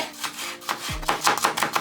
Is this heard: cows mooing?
no